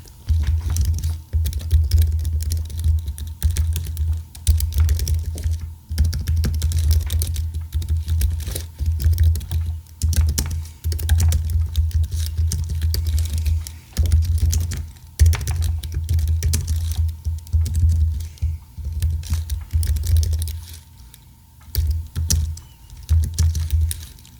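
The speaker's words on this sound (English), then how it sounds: "so that was the Apple keyboard" Steady, rapid typing on an Apple computer keyboard, soft clustered key clicks with brief pauses, close and continuous, with a low hum underneath.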